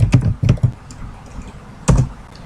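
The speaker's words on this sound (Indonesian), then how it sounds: "Kita cari di sini, ibu akan ketik di sini kata kemudian" Close, sharp taps on a computer keyboard as a search word is typed, a quick cluster of keystrokes, a pause, then one more firm press.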